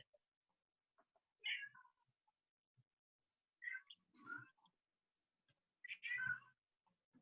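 A cat meows three times in separate calls spaced a couple of seconds apart, fairly faint and with no one talking, in a quiet indoor room.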